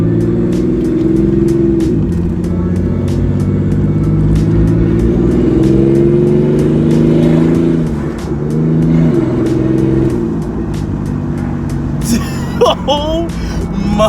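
A Toyota Supra with a catless downpipe on a cold start, its engine idling loud and close with harmonic drone, rising and falling through several revs, with a brief burst of talk near the end.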